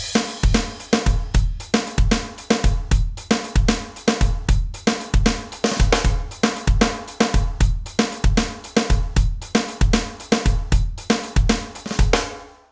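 Snare drum played in a rolling triplet feel at an even, unaccented volume, a steady stream of loud, close strokes running for about twelve seconds before stopping abruptly, with no talking.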